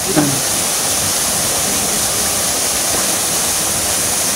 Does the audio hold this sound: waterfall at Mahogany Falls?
yes